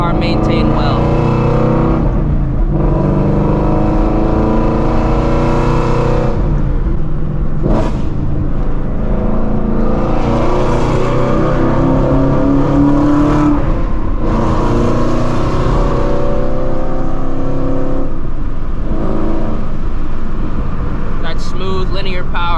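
A Shelby GT350 Mustang with the Voodoo engine revs and accelerates hard, its loud continuous exhaust note rising through the gears over about twenty seconds, with brief shifts between pulls.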